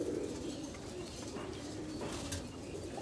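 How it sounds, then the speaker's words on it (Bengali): Young pigeons coo in a continuous low murmur from a home flock, steady and moderately loud throughout, with no talking over it. "এগুলো কিন্তু সবই বাচ্চা কবুতর"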